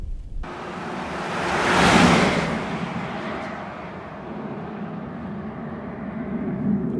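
An Audi Q7 4.2 TDI with 340 hp cruising at over 200 km/h, heard from inside as a steady loud roar of wind and road noise that swells, eases slightly and builds again, with no voices.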